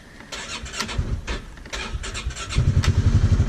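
Polaris Ranger 570 utility vehicle engine starting, a few seconds of close, loud cranking and sputtering that catches and settles into a rough, even idle.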